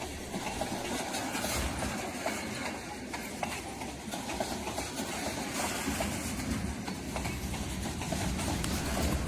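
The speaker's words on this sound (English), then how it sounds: "We'll watch the tail of the train move off into the sunset" A CN Rail train pulling away on the Preeceville Subdivision at Benito, Manitoba, heard as a steady, fairly distant rumble with light wheel clatter that holds evenly throughout, with no voices.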